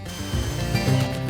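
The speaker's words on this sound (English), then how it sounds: "Drill 2 pilot holes" A drill bores a pilot hole into rabbeted wood during a coffee table build, giving a short, close grinding whir that builds in intensity over about a second.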